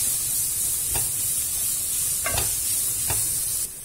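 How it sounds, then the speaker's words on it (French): Onions and vegetables sautéing in a pan for a bolognese lasagne sauce, a loud steady sizzle broken by a few quick scrapes of a stirring spoon. "Je fais revenir aussi jusqu'à ce que tout se mélange bien."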